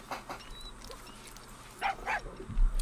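Chorizo, a dog in the video game Far Cry 6, gives soft whimpers and a few short barks and yips, close and fairly quiet, with a louder bark near the end.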